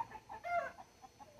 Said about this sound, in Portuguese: As coisas mais natural assim pras galinhas é melhor, porque elas gostam de ciscar a terra.